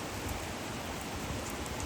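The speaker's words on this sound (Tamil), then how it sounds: "டே மழை வருதுடா மறுபடியும்" Steady broadband rain hiss falls continuously during a motorcycle ride on a forest route toward Munnar, loud and even with no clear breaks, nearby and uninterrupted, with no talk over it.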